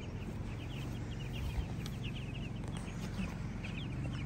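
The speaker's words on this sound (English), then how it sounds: "Look at all those chickens." Chickens cluck softly and repeatedly inside a coop, a low, continuous murmur of scattered calls at moderate distance with steady background hum.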